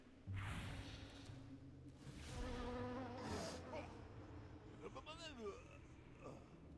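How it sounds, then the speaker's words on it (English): A swarm of bees attack in a pet battle video game gives a whooshing insect buzz in bursts, layered with game effects and a talking voice over the top. "Swarm of Bees."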